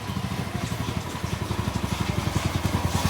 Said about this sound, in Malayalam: നിജാസ് ഇതാ ബൈക്കിൽ വരുന്നുണ്ട്